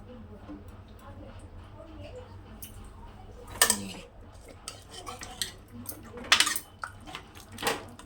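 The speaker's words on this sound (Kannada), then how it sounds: "ಇವಾಗ ಓಪನ್ ಮಾಡ್ತಾಯಿದ್ದೀನಿ ಕುಕ್ಕರ್ನ" A pressure cooker lid is opened after cooking legumes, with irregular bursts of close metallic clatter and clanks against steel, and a voice speaking intermittently around them.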